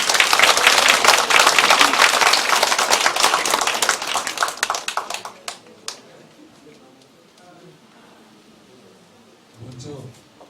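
At a Korean election campaign committee's closing ceremony, a crowd gives loud, dense applause to welcome the winning candidate, which thins into scattered claps and fades to near quiet, with a brief voice near the end.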